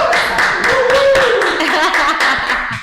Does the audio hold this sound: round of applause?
yes